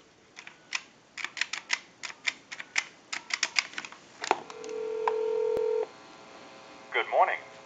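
Number dialed on a Western Electric Trimline telephone: a quick run of crisp, evenly spaced clicks, then a steady ringback tone for about a second and a half, followed by a recorded voice answering.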